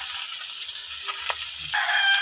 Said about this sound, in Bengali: বাকি মাছগুলোও ভেজে নিচ্ছি একইভাবে।